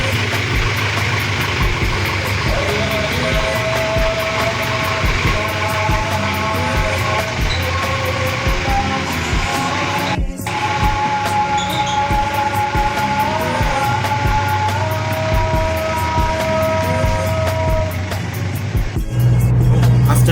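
A 1993 Daihatsu Taft drives along a road in Kabupaten Bandung, a steady engine drone and road rumble from inside the cabin with shifting tonal whine, a brief thump midway and a change in tone near the end.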